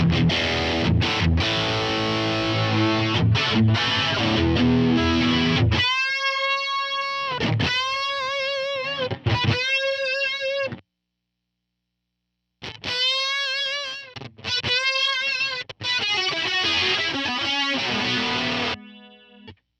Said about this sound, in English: So let me show you, add some distortion.